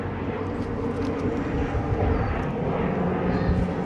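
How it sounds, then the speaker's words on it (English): An airplane passes over a woodland garden, a steady broad rumbling drone that holds at a constant level throughout, with no talk. "there's a plane going by"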